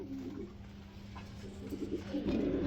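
Lahori pigeons coo softly and repeatedly in a loft, low throaty calls rising near the end over a faint steady background hum, with no talking.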